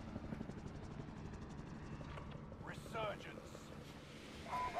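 A video game helicopter's rotor drone on Rebirth Island runs steadily in the background, a low mechanical thrum with wind-like noise, plus a few brief electronic tones.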